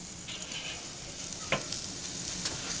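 Tri tip searing over hot coals, a steady crackling sizzle close by with a couple of brief sharper pops or scrapes.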